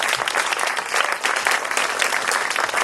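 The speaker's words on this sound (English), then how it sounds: "once again, a very big hand for all of our presenters tonight" An evening crowd gives a very big hand to young presenters who have read their writing: loud, continuous close applause with no gaps throughout.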